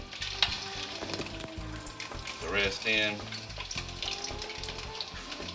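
Fish crackles and sizzles steadily in hot oil, with sputtering bursts and a few brief spoken words over the frying.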